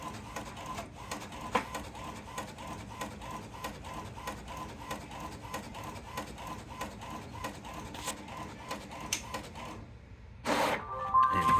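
An HP printer prints a one-page November 2025 calendar, giving a steady run of rhythmic mechanical pulses close by before the paper feed stops and a brief rustle ends the job.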